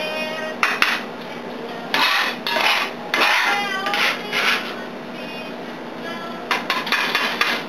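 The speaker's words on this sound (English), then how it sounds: "we're going to go ahead and put the onion in the skillet and get them a head start" Onions drop into a skillet for eggplant chili with a series of clattering, sizzling bursts and scraping knocks of pan and utensil, loud and close, spaced through the stretch with a steady background hum.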